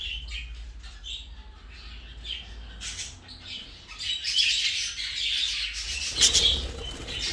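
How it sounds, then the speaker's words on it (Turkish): Jumbo budgerigars in a breeding aviary, wings flapping in bursts amid chirps, squawks and chatter, close and lively, growing busier toward the end. "Onlar bu geçen senenin kuşları yine."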